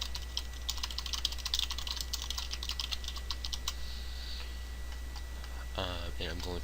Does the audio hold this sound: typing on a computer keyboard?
yes